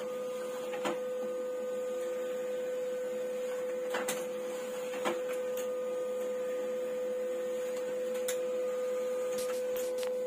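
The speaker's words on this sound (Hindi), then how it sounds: "देखिएगा अब प्रिंट हो रहा है" A steady electronic printer hum with a constant tone, printing a school admit card from a computer, broken by a few faint clicks and ticks over about ten seconds, with no voices.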